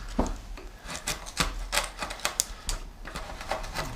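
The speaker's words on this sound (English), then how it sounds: "So I'm just going to drive the chisel through it here." A chisel driven through a knotty patch of wood while building a woodworking bench, giving sharp irregular taps and cracks with rough scraping between them, close and moderately loud.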